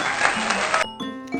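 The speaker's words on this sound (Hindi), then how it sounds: "बजाओ बच्चों ताली" A burst of children's hand clapping from a Hindi alphabet rhyme rattles quickly for under a second, then gives way to sung music and tonal sounds.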